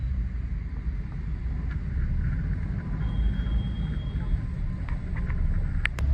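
Heavy rain is heard from inside a car: a dense, continuous rumbling wash of drumming rain and road noise, steady and loud throughout.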